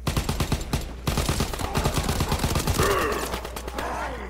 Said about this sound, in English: This gun kills pretty fast. It just reloads too much.